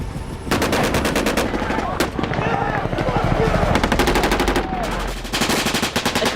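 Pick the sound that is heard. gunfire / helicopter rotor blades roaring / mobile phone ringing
gunfire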